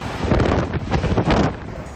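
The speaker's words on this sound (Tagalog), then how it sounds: "Tila nanununtok din ang hangin." Loud, roaring Hurricane Milton wind buffets the microphone in heavy gusts, with a rushing, stormy rumble throughout, in Florida.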